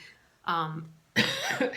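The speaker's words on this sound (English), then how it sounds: "excuse me, I went running earlier. Now I have runner's cough." Someone nearby coughs once, a short harsh bark, followed by a burst of speech.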